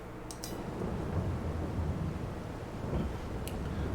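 Steady rain falls in Farming Simulator 22, a dense, even hiss with low rumbling wind underneath, constant throughout at moderate level, broken by a couple of faint, brief clicks.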